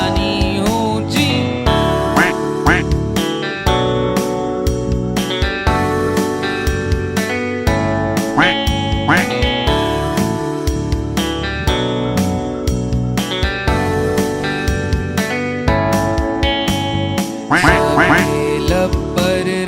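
Cartoonish duck quacks repeat throughout a lively Hindi nursery rhyme for children, loud and rhythmic over bouncy music.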